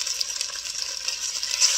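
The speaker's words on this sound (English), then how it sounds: "I'm just going to get a little sizzle." Chicken sizzles skin-side down steadily in a hot pan, a bright crackling hiss with small pops, close up and uninterrupted by voices.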